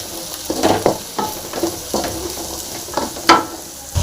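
A spoon stirs jackfruit seed mash in a pan, giving repeated scraping strokes with a faint sizzle underneath, close and moderately loud, with no voices.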